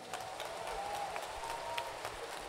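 Audience applause at a samba performance, a faint, steady patter of many hands clapping from a crowd, with a faint tone sounding underneath.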